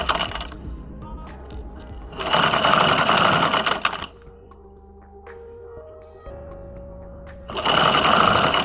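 A sewing machine stitching a sleeve pattern runs in two loud, fast, buzzing bursts of stitching separated by a quieter pause with faint handling clicks, close to the microphone.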